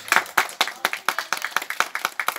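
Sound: audience applauding the performer

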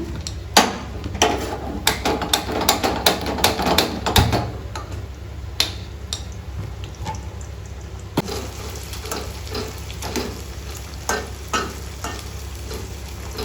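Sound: okra (bhindi) frying in a pan

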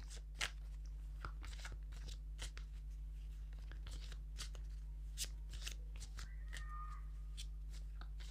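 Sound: shuffling cards

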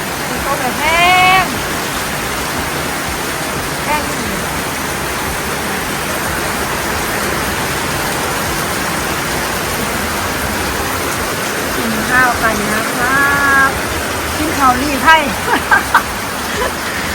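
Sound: heavy rain falling

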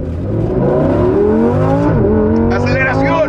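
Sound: Lamborghini Sterrato accelerating in a canyon

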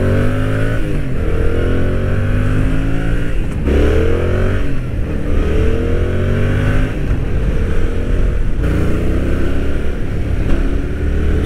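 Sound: Yamaha MT-07 motorcycle riding with gear changes

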